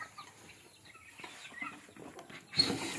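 Native and Rhode Island Red chickens cluck and murmur softly nearby in a backyard flock, with scattered quiet calls and a louder burst near the end. No one speaks.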